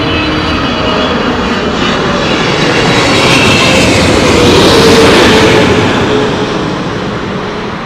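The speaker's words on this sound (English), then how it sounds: "This is Saudi Arabian Airlines 777-300." A Saudi Arabian Airlines Boeing 777-300 jet roars past at Heathrow Airport in stormy conditions, a loud broadband engine rumble that swells to a peak midway and slowly fades, with no talk.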